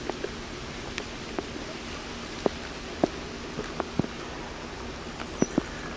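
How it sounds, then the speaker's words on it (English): Rain patters on a homemade rain cover mounted over a small rig video camera, with scattered sharp drops tapping the shield over a constant soft hiss of rainfall, no talking. "another rainy day test of my rain shield"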